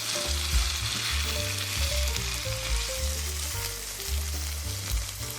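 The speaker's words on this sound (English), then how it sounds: "Now you can add in your pork and beans. And we're just going to mix it until everything is well combined." Pork and beans are stirred in a pot for sweet and smoky baked beans, a steady close bubbling sizzle with soft repeated scraping from the stirring spoon, no voices.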